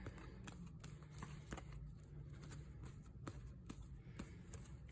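Tarot cards being shuffled by hand during a spiritual reading, a steady run of quick soft riffles and taps close by, with no talk over it.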